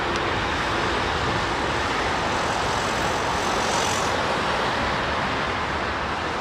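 A Boeing 787-10 airliner arriving at London Heathrow, heard as a steady, broad roar of jet noise holding at constant loudness for several seconds, with no voices.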